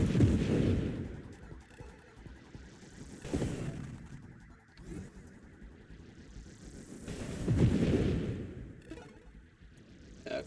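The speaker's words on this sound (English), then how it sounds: "My shotgun is now explosive." An explosive flak shotgun firing in a video game, with repeated heavy booming blasts spaced a few seconds apart, each trailing off in a rumbling roar.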